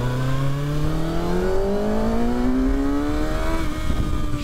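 A 2024 Kawasaki ZX-6R motorcycle engine screams on the open road, a steady high-pitched whine climbing smoothly in pitch as it revs up through one gear, loud and close with wind rush underneath.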